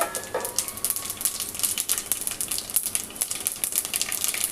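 Cumin, urad dal and mustard seeds fry in hot oil, a steady close crackle of rapid tiny pops and sizzle spattering throughout with no talk.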